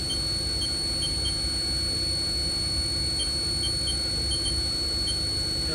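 The spindle of a 2002 Haas VF-2B 20 hp CNC vertical machining center spins at 6,000 RPM, giving a steady high-pitched whine over a low mechanical hum, constant and unchanging.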